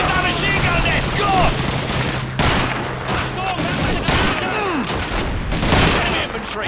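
Machine gun fire in Call of Duty 2's British campaign: dense, loud bursts of automatic gunfire with scattered shots and distant booms, while soldiers' voices shout over the din.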